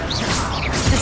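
Bombarda exploding spell in Hogwarts Legacy, a single loud one-second blast with a crashing impact, a whooshing swish and a heavy low thud near the end.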